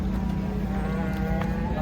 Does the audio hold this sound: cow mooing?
yes